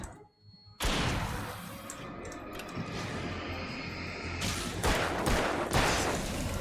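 Rapid gunfire from Alan Wake rings out in a dense, continuous volley, loud and close, with several overlapping shots and echoing booms through the game's action, no talking over it.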